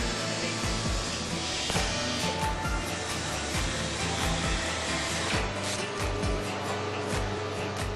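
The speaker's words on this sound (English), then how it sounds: "sand the damaged area with an eccentric sander." An eccentric sander works a damaged area on a Mercedes-Benz body panel, giving a steady, continuous whirring drone at even loudness throughout, with no voices.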